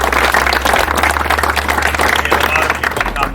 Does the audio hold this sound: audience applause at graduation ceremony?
yes